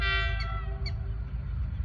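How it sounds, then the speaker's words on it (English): A train passes at sunset with a deep steady rumble, while its horn sounds loudly at the start and fades out within about a second. "Again, train"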